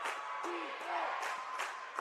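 A Roane County crowd at a girls' high school basketball game cheers and shouts in bursts, a dense roar of voices with whoops rising and falling, fairly distant and moderately loud.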